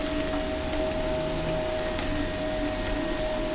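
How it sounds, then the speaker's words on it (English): A household vacuum cleaner drones steadily up close, its motor hum unbroken and fairly loud throughout, with faint background noise and no clear sign yet of it cutting out. "Oh, your vacuum is dying."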